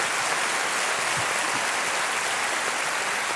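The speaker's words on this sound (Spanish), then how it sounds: "Recibamos al Señor con un aplauso hoy en el nombre de Jesús." A church congregation applauds, a dense and even wash of clapping that stays constant and fairly loud from start to finish.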